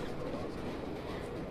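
A subway train rumbles past in the Dead or Alive 5 fighting game, a continuous loud rolling rail noise with faint clatter that fills the whole stretch with no voices.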